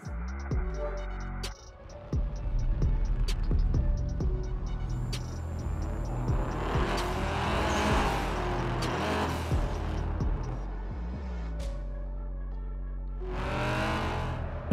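Race car engines roar and rev through a drag race in the video game Night Runners, loud and sustained, with rising acceleration sweeps, gear changes and a final high-pitched rev burst near the end.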